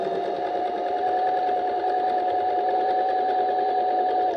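A domestic sewing machine running a steady zigzag stitch on appliqué fabric, with a continuous close, loud whirring hum and a rapid needle rattle underneath, unbroken from start to finish.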